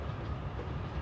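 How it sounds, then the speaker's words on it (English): Train cars rolling along the track with a steady clickety-clack rumble, heard up close and continuous in the video game Forgotton Anne, with no talk over it. "let's mess with the train while we're on it"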